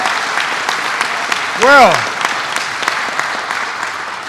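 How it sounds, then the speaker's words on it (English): Standing ovation from an audience at a governor's Upstate Revitalization Award presentation: dense, steady clapping fills the room while someone briefly speaks over it. "a standing ovation"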